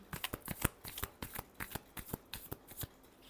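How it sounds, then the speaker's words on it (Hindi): Tarot cards being shuffled for a Cancer love reading, a quick run of crisp riffling slaps and soft flicks in an uneven rhythm, close up and alone with no voices. "last shuffle"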